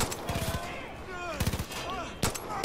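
Gunfire in Far Cry 5: a few quick bursts of shots in clusters near the start, middle and end, mixed with game effects and some voice sounds in between.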